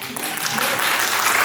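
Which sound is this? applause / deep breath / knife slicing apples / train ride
applause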